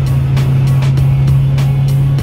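Lowered car with a seven-speed gearbox cruising in seventh gear on a highway, with a loud, steady engine drone and periodic whooshes of passing traffic.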